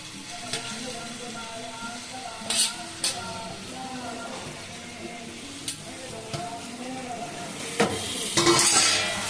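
Grated paneer being stirred into melted sugar in a pan over a low flame, a soft scraping and gentle sizzle with occasional clinks of the spoon against the pan, steady and close.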